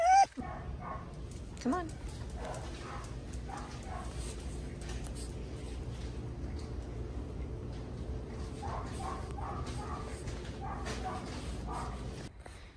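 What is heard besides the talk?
dog whining and barking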